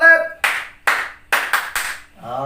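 A group does the Indonesian scout clap, giving several loud, sharp clap bursts in a patterned rhythm, with brief voices at the start and end.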